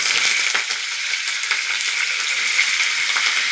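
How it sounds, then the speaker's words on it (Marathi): Curry leaves hit hot oil in a kadhai for tempering, already holding mustard seeds and asafoetida, giving a loud steady sizzle with crackling pops throughout, no voices. "त्याच्यावर कढीपत्ता टाकते।"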